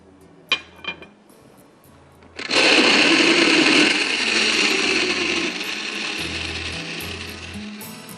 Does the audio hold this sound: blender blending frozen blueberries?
yes